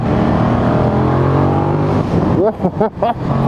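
A 2017 KTM Super Duke 1290 motorcycle engine runs with a steady, loud low rumble close by, then a few quick revs or blips near the end, with a voice speaking over it.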